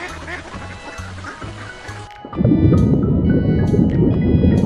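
Muscovy duck quacking from a farm-animal sequence: after a short musical passage, a loud, dense burst of many overlapping harsh quacks from a close flock fills the rest of the clip.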